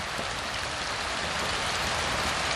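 Water rushes steadily through a drip irrigation hose left running to purge dirt and debris after installation, a constant close hiss with no pauses and no voices.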